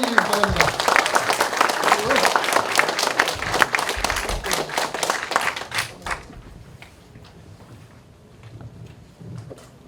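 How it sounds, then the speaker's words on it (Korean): An audience claps to welcome a history professor at a special lecture, with dense applause for about six seconds that then thins into scattered claps and room noise with voices. "뜨거운 박수로 환영해 주시기 바랍니다."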